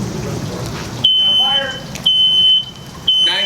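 A household smoke alarm in a home fire-safety demonstration gives three loud, piercing electronic beep bursts, each about half a second long, spaced about a second apart, with faint voices murmuring between them.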